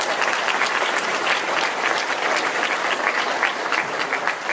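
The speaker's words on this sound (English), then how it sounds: "Let's clap for that." Enthusiastic audience applause at a city inauguration ceremony in Compton, loud, dense and continuous throughout with no talking over it.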